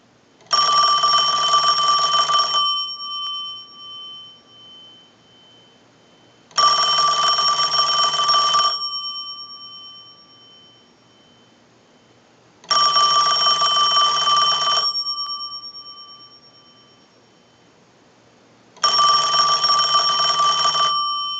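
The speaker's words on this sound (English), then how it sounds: "use the analyzer and send a ring cycle like you were getting a call" A Western Electric Princess telephone's bell rings in four long bursts, driven by a test ring cycle, evenly spaced with pauses between, loud and close, no voices.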